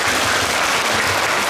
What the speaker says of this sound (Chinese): 所以呢，一样再给我们的所有的工作人员，